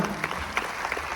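Audience at a business event clapping for ITC leaders, a brief burst of crowd applause with a few sharper individual claps standing out.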